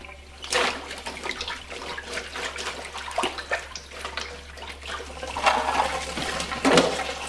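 Running tap water splashes over freshly pulled rhubarb stalks being rinsed, a continuous close spatter with uneven bursts as the stalks shift under the stream.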